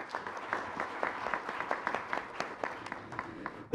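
An audience at a Korean policy debate forum applauds to welcome the moderator, giving steady, dense clapping from a full room that carries on evenly without talk.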